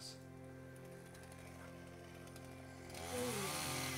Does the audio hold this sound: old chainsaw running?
yes